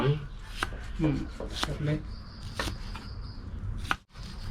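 A knife slices shallots on a board in a run of soft, crisp cuts repeating about every half second, close and moderately quiet, with voices talking briefly alongside.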